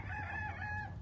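A rooster crows once, a short nearby cock-a-doodle-doo with a strained, wavering pitch.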